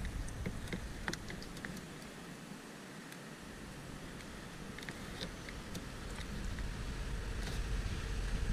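Plastic tie wraps ratcheting tight around a tow mirror wire on a 2011 Silverado Duramax, a series of quick sharp clicks and ticks, some clustered, over a steady low background hum.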